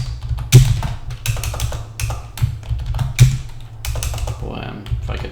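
Rapid bursts of typing on a computer keyboard, close and clear, with irregular clusters of keystrokes over a low steady hum, no talking.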